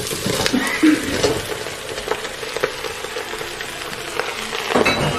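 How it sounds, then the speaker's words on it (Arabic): Eggplant cooks in a frying pan for Syrian maqluba, giving a steady, moderately loud sizzle with light stirring scrapes and a few small knocks, and no voices. "رح اضيف الملح، اضيف الباذنجان"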